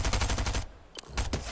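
Rapid automatic gunfire from the video game Fortnite rattles in a dense burst, pauses briefly, then resumes with a few more sharp shots, loud and close with no speech over it.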